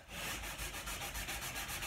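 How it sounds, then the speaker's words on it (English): Sandpaper rubbing back and forth along a groove in a wooden dining table, a steady close scraping with a regular stroke rhythm and no voices. "sanding it will just sand it more smooth"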